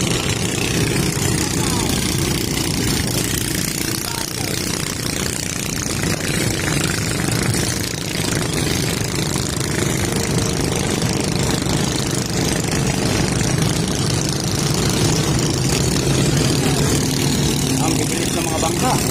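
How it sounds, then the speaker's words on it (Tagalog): Loud, continuous engine roar from fast motorboats at a town fiesta, droning steadily with churning, splashing water noise and occasional voices underneath. "Ang bibilis ng mga bangka."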